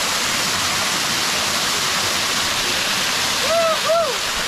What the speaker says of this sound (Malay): Air terjun tu kata air terjun pengantin nama dia.